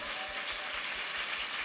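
A church congregation at a Telugu Sunday service claps loudly in dense, continuous applause with a steady rhythmic beat, filling the room throughout.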